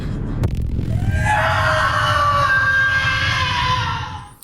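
A woman's prolonged, blood-curdling scream from the body-horror film The Substance, loud and sustained with a sharp impact near the start, over a low rumbling bed.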